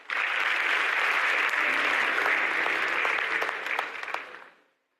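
Audience applause at the Référentiel 2050 project launch event at CICAD, a dense steady clapping from a crowd that holds strong for about four seconds before tapering off and fading to silence.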